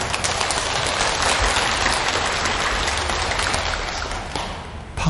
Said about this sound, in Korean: 박수를 받으니까 막 이렇게 힘이 올라오네.